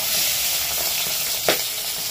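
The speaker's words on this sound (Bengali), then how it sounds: "মাছগুলোকে ভেজে নেব।" Small egg-filled tengra fish fry in fully heated oil, giving a steady, loud sizzle and hiss with one brief sharper spit or pop partway through.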